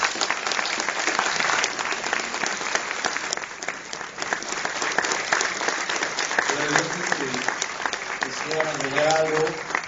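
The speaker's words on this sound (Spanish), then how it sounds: "qué mejor que un fuerte aplauso" Sustained applause from an audience at a tribute event in a Mexico City museum, dense and steady throughout, with voices murmuring and calling out faintly beneath it near the end.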